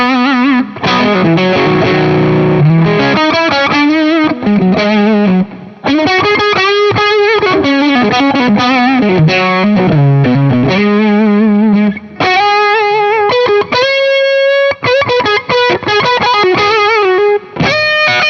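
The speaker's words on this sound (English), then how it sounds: "let's dial the fuzz back and see how it sounds" Electric guitar played through a Wampler Velvet Fuzz pedal with the fuzz turned down, giving a loud, steady run of distorted, sustained chords and riffs with brief gaps.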